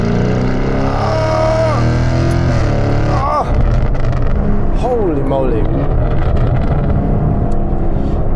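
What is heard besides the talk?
Novitec Lamborghini Urus SE V8 SUV engine revving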